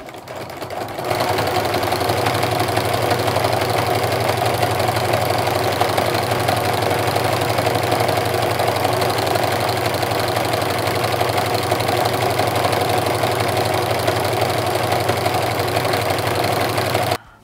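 A sewing machine runs steadily stitching jelly roll fabric strips together for a rug, a continuous close mechanical whir with a fast even needle rhythm that starts after a second and stops abruptly at the end.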